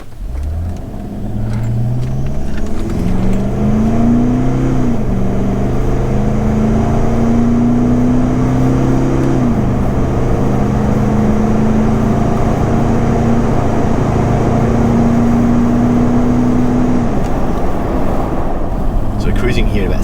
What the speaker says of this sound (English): we're just going to do a 0 to 100 and a 60 to 100 kilometer hour run